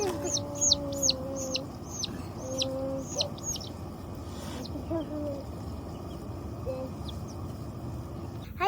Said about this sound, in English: We got chicks today.